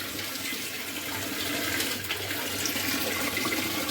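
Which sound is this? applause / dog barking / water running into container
water running into container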